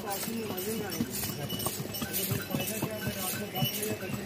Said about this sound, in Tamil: இது வந்து தனியாக குதிரை போகிறதுக்கான ஒரு பாதை, அந்த செக் போஸ்ட்டுக்கு அப்புறம்.